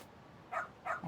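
Two short, close dog barks from the video game Lost Judgment, about a third of a second apart, with no talking.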